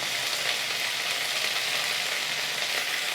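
Mint, coriander, ginger and garlic sautéing in a pan for chutney, a dense, even frying hiss that holds steady throughout, close and fairly loud, with no voices.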